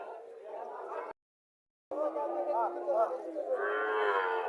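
A native cow at a cattle market in Barura, Comilla, Bangladesh moos in drawn-out, low calls, broken by a brief silence, then longer lowing that rises at the end.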